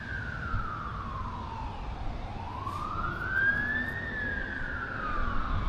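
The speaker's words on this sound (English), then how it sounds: "Oh, it's a police car." A police siren wails in a slow rising and falling sweep as the car passes at moderate distance, loud and steady under a low rumble of outdoor background noise at a fishing spot near Eldorado and Wangaratta.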